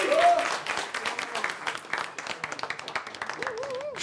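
Crowd applause for a contestant at a Budapest open mic rap competition keeps up as a lively clatter of scattered claps, with voices shouting over it at the start and end.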